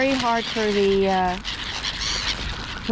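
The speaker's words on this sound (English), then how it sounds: "So many hungry seagulls." Hungry seagulls gathered at food, several loud, harsh, descending calls close by, with a clear break between the first cries and more squawking; a person speaks over part of it.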